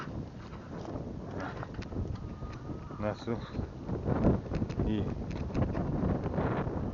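Strong storm wind gusts across the microphone in a steady roaring rush outdoors near a farmyard, with brief voices exchanging a few words over it.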